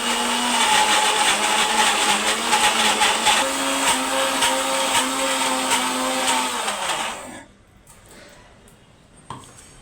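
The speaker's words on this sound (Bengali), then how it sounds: "মোটামুটি 3-4 বার ভালোভাবে ঘুরিয়ে নিলেই মিক্সিতে একটা মসৃণ ব্যাটার তৈরি হয়ে যাবে।" Soaked lentils whirring in a mixer grinder into medu vada batter: a loud, steady motor drone for about seven seconds that winds down and stops, leaving near quiet with a small clatter at the end.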